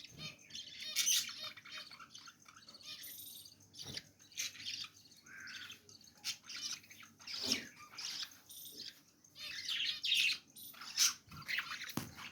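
Pet budgies chirp and squawk in the morning, bright tweets coming in quick irregular bursts, fairly close and lively, with a few sharp clicks between calls and no talking.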